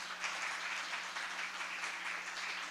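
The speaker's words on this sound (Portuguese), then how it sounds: "Quem acredita nisso, levanta a mão e aplauda o Senhor Jesus." Church congregation applauding during a sermon: a faint, distant, continuous wash of many hands clapping, steady and even with no distinct individual claps.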